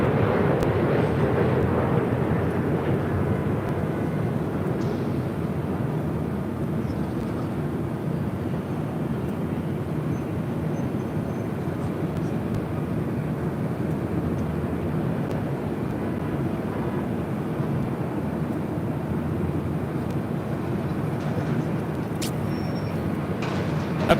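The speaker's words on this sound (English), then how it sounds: "this flight coming in from Reno, Delta Connection 4099. It's a 7-year-old" A Delta Connection Embraer E175 airliner arriving from Reno at LAX, a steady broad jet roar holding level for the whole stretch, fairly close and continuous with no talk over it.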